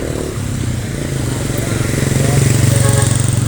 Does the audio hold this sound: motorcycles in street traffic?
yes